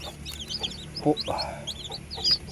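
Newly hatched naked neck chicken crosses cluck and chirp up close in quick, scattered bursts, with a few louder clucks standing out over a low background.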